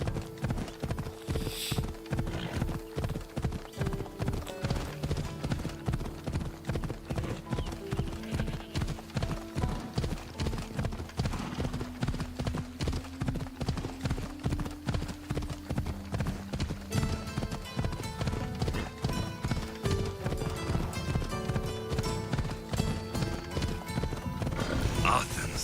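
A horse trots in Assassin's Creed Odyssey, hooves clip-clopping in a quick, steady rhythm throughout under a sustained game music score, with an occasional whinny and a player talking over it.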